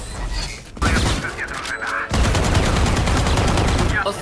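Rapid bursts of automatic gunfire from a first-person shooter game, loud, dense and close, with a brief pause before a longer sustained volley and faint mechanical clicks.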